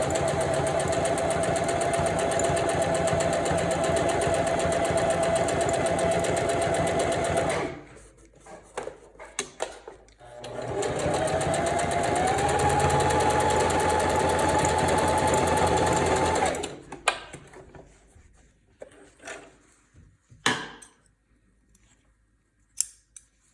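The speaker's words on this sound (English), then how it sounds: "I recommend just doing a quick little reverse stitch." Sewing machine stitching swim elastic onto Lycra runs in a loud, steady whirring burst, stops briefly, then runs again for several seconds before ending in scattered clicks and fabric handling noises.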